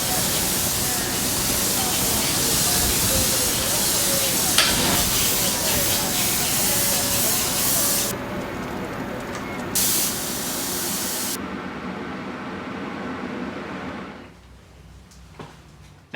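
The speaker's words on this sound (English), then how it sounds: "load some straight transparent yellow into your airbrush and completely cover the entire artwork" An airbrush sprays transparent yellow paint across flame artwork on a skull, a continuous loud hiss that briefly cuts out, resumes, then stops; a voice is heard faintly beneath.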